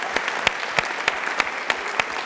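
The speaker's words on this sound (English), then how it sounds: "So give a round of applause to Lane College." Audience applause at a talk, a steady patter of clapping from a crowd with sharper individual claps punctuating it at a quick, even pace.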